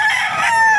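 A large gamefowl rooster, a Gilmore Hatch, crows nearby at a hot outdoor fowl market in Baliuag, Philippines, a loud strained call that stretches through the brief moment.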